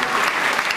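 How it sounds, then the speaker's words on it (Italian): Audience applauding at a talk or local cultural gathering in Italy, a brief burst of dense, steady clapping from many hands, fairly loud with no talk over it. "Facciamo un applauso alla Teresa."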